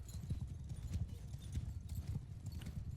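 Horses gallop in a Mount & Blade Bannerlord battle, a dense rapid clatter of many hooves rolling on continuously at a moderate distance, fairly quiet, without talk.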